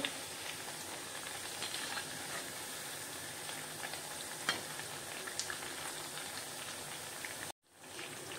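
Kothimbir vadi, coriander fritters, shallow frying in oil in a pan over medium heat, giving a steady close sizzle and crackle throughout with no talking, briefly cut off near the end before resuming.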